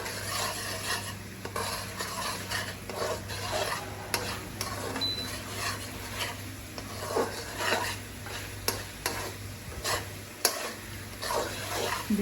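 Mutton is stir-fried in oil in a pan for mutton rezala, with continuous sizzling and frequent scraping stirs of a metal utensil against the pot, close and busy throughout.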